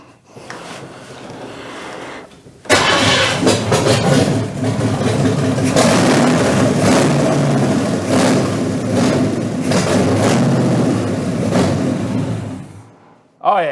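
A GMC truck engine cranks and fires after fuel is poured in, then runs loud and rough with revving and sputtering close by, a brief quieter stretch before the catch and a sudden cutoff at the end.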